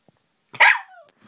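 A dog lets out a single sharp bark that trails into a short whine, close and loud against an otherwise quiet room.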